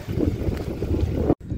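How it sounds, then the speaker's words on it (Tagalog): Strong wind at sea buffets a small boat, a loud blustery roar of gusts against the microphone that cuts off abruptly near the end. "Napakalakas ng hangin."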